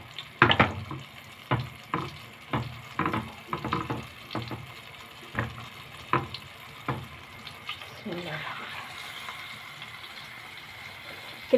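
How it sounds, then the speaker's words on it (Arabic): Pieces of tuna fish frying in oil in a hot pan, with a series of sharp knocks and clatters from the pan and utensils, then a softer, steady sizzle and crackle. "ومعايا طاسه سخنه على النار، وحطيت فيها شويه زيت عشان نقليها"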